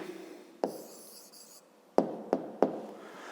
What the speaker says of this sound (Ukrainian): Ну що ж, пишемо тоді відповідь.